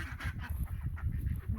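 A duck or goose calls near a farm pond in spring, a run of honking, quacking cries repeating close by with low rumbling noise underneath.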